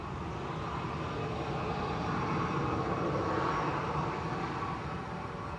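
A steady, broad jet-engine rumble from an airliner pushing back for departure at Manchester Airport, constant and fairly distant throughout, with no voices.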